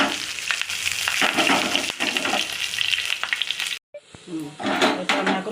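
Tempering (tadka) with curry leaves and chillies crackles and sizzles steadily in hot oil for masoor dal pakoda, loud and close, with a brief break before the spitting resumes.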